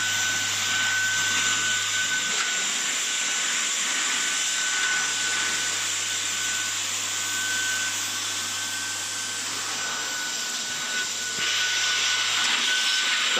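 A vacuum cleaner runs steadily and loudly indoors for the whole stretch, its motor drone and airy hiss unbroken from start to finish, with no voices over it.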